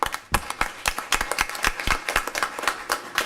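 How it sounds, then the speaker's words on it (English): Sparse, irregular hand claps in a school board meeting room, individual claps clearly separated rather than forming a full ovation, fairly quiet. "Do we give the financial team and all the supporters of that financial team a round of applause?"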